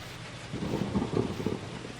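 Rain falls steadily in the video game BlackSoul while a soft roll of thunder swells in the middle, moderately loud and without voices.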